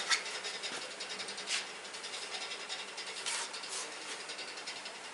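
A printer working on a quarter scale 1973-style Mustang fastback model gives off a continuous soft mechanical rubbing and whirring, steady and close with slight rhythmic pulsing and no speech.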